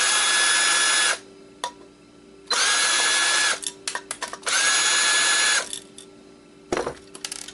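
A power drill unscrewing an old Xbox hard drive whirs in three sustained close-up bursts, separated by clicks and handling noises.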